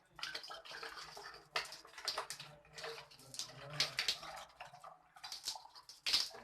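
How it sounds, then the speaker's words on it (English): Water pouring into a container punched with holes for a home science experiment, a close, fluctuating gush and splash with bursts of trickling and a few small ticks, no voices. "You can see I am filling the water."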